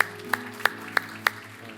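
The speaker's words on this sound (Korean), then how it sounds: "우리 다시 한번 하나님 앞에 감사의 박수 올려드리도록 하겠습니다" In a Korean church during Sunday worship, a few sharp, evenly spaced claps ring out one after another, close and distinct, over a faint steady musical hum.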